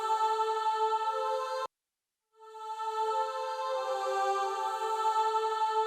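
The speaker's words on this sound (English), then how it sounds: "Choir intro melody." A sustained synthetic choir pad holds rich harmonic chords, the intro melody of the theme, cutting to silence briefly before swelling back in and continuing steadily.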